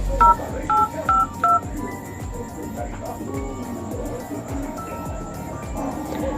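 A telephone number is dialed as a quick series of four DTMF key tones near the start, followed by a softer ringing or line tone over quiet background music.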